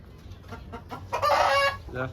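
Desi native-breed rooster and hens cluck in short nearby bursts, with one louder, sustained call in the middle and softer clucks before and after.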